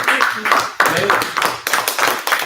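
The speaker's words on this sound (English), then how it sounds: "let's give them a round of applause" An audience at a Maker Faire gives a round of applause: close, loud clapping in several surging bursts, with voices mixed in.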